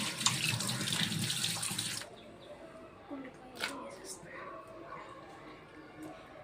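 Lentils are washed under a kitchen tap: water gushes loudly for about two seconds, then cuts off, followed by soft clinks and handling noises.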